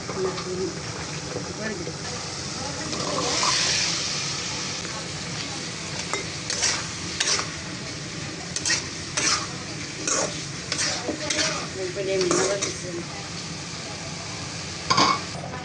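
Vegetables (stems of taro) stirred into a sizzling pan with spiced dried fish in a village kitchen, a steady fry hiss under repeated scraping and clinking spoon strokes, with a brief burst of louder hiss near the start.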